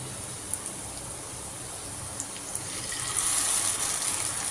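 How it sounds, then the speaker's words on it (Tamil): Water mixture poured into a pan of roadside-style mushroom masala, a soft steady gushing stream that grows louder and fuller near the end, heard alone at close range. "லேசாக தண்ணி ஊற்றி கலந்து அதில் ஊற்றணும்."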